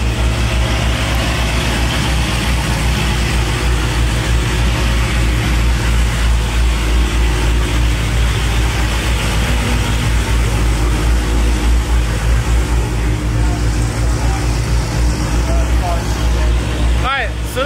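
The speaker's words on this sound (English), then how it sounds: "A cold start for everybody from the Demon, the Challenger, the Charger." A Dodge Demon and two Hellcats, a Challenger and a Charger, rumble loudly together after a cold start, a deep, steady engine roar close by with no break across the whole stretch.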